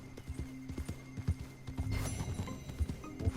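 A horse's hooves clip-clop at a quick, uneven gallop in Red Dead Redemption 2, with steady thuds close by and a brief whinny over a faint ambient hum.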